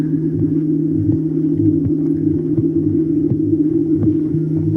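A mother's slow, steady heartbeat throbbing under a low, constant hum, muffled as if heard from inside the body, with regular soft thumps.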